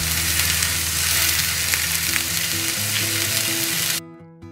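Courgettes sizzle on a hot griddle with spray oil, a loud, dense, steady hiss under a faint musical hum that cuts off abruptly near the end.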